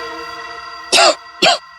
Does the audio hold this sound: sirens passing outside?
no